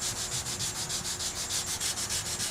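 Sanding out a paint run in the clear coat of a car hood, a steady rhythmic rubbing with even back-and-forth strokes, close and continuous with no talk.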